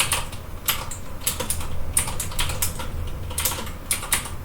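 Fast, steady typing on a computer keyboard while writing out a theorem, with keys clicking in quick bursts close to the microphone and no talk.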